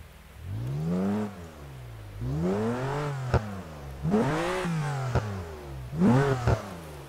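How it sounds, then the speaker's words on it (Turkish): A BMW engine in Euro Truck Simulator 2 revs up and drops back four times in rising, falling sweeps, with sharp exhaust pops cracking between revs. "egzoz patlatan çılgın bir BMW ile beraber bugün gideceğiz"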